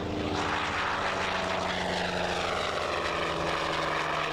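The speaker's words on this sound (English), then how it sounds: "the big difference between all these American aircraft and the British single-engine planes is that these all have radial engines" Vintage American radial-engine warbirds flying in formation at the Duxford Flying Legends air show, a continuous rumbling, throbbing propeller drone heard from a distance, steady and moderately loud with no voices.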